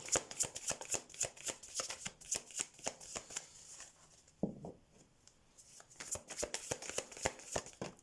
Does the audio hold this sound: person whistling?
no